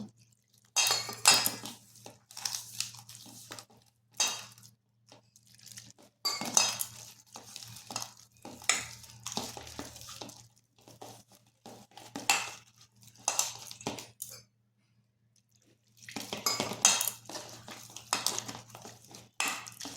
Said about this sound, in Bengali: এরপর শুকনো উপকরণগুলি ভালোভাবে মিশিয়ে নিচ্ছি। এরপর অল্প অল্প জল দিয়ে একটা বেটার তৈরি করব।